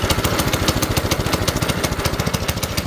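Small engine idling with a new carburetor and new filter, choke off, its muffler cut and repositioned; a steady, loud, rapid pulsing chug runs evenly throughout with no voices.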